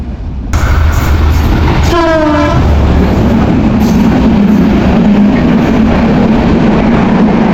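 Banalata Express, a fourteen-coach passenger train running Dhaka to Chapainawabganj, with a wavering horn blast early on, then a loud, close, steady rumble and rattle of coaches.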